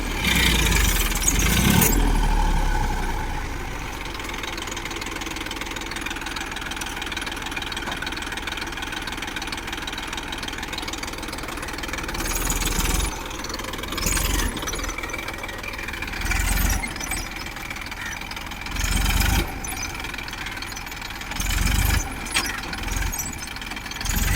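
A vehicle stuck in sand revs its engine continuously over about twenty-four seconds, a steady mid-pitched drone broken by repeated louder surges and bursts as the throttle is pushed, with no talking.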